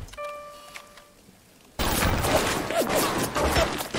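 A turret opens fire in BioShock, a burst of rapid loud shots after a quiet stretch, continuing as a dense rattling volley to the end.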